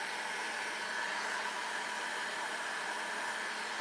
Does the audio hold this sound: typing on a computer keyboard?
no